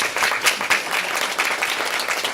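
Applause from an audience at the end of an educators' session in Orlando, a moderately loud wash of many clapping hands, steady and continuous over a couple of seconds.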